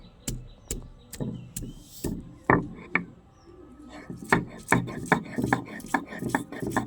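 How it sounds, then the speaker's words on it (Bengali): Ginger is ground into a paste on a traditional grinding stone, heard as close knocking and scraping strokes in an uneven rhythm that grows denser and quicker toward the end. "আর আদা একসাথে বেটে নেব।"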